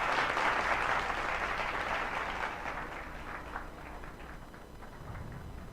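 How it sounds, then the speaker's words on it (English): Audience applause for a pharmacy CEO at the commissioning of a retail pharmacy in South La, Accra, starting as a thick burst of clapping and gradually thinning and fading toward the end. "A big round of applause for the CEO."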